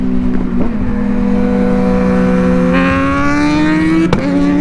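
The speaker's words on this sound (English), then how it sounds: "his bike sounds good" A loud, close Yamaha R6 or Kawasaki ZX-6R sport motorcycle engine drones steadily and then revs upward in pitch on a highway ride, its tone rising smoothly before a brief sharp blip near the end.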